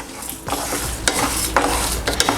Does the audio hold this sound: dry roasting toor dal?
yes